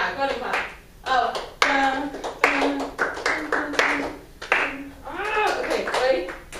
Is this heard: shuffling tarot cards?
no